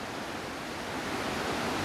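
Blakely Falls on Hull Creek, Pennsylvania, a steep natural rock waterslide, pours in a steady, close, broadband rush of churning water that holds even and full throughout, with no voices over it.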